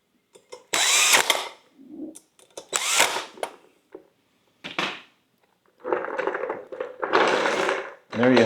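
A power drill drives screws into a wash bucket dolly handle in short bursts of whirring, several close spurts with pauses between them, while a person talks nearby.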